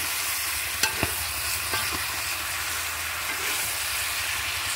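Meat, likely chicken, frying in a pan as it is stirred, a steady low sizzle with a few scraping clicks from the spoon near the start, close and alone without any talk.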